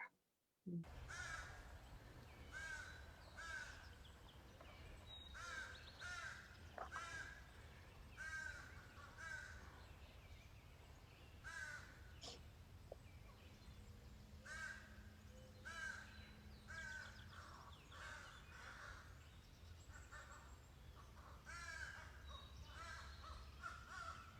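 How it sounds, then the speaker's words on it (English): Crows caw back and forth in a forest, harsh repeated calls at varying distances scattered steadily throughout, some near and clear, others fainter, over a soft outdoor background. "this is a raucous room with crows talking to each other"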